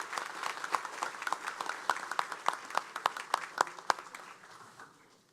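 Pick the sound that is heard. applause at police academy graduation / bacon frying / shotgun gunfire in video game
applause at police academy graduation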